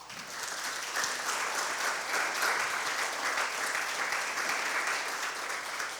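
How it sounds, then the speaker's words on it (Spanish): A church congregation claps in praise, a steady dense wash of many hands that rises quickly and holds evenly throughout, with no talking over it. "Dele un aplauso de alabanza."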